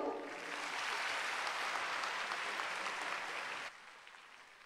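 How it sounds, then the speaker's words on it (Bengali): Steady applause from an audience at a Kanyashree Day celebration held by the West Bengal government fills the space evenly, then drops suddenly to a quieter patter before ending. "একটু করতালি হোক"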